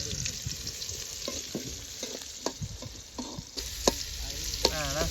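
Onions sizzle and fry in a hot pan for chicken liver chukka in an outdoor village kitchen, with steady crackling and occasional stirring scrapes at close range.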